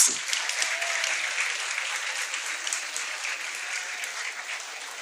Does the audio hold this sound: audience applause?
yes